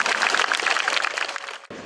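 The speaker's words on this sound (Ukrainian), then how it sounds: "всі ми сьогодні давайте від душі аплодисментами подякуємо країні Фінляндії" An audience at the opening of a green school in Antonivka applauds to thank Finland: steady, dense clapping at moderate volume that dips briefly near the end and then continues.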